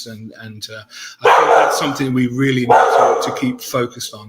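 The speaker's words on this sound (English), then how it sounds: "Apologies about the dog." A dog barks repeatedly nearby during an online rugby discussion, sharp yapping bursts and whimpers cutting in around and over a man's continuing speech.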